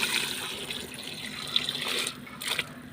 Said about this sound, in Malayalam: കുറച്ച് വെള്ളം ഒഴിച്ച് നനച്ച് കൊടുക്കുക.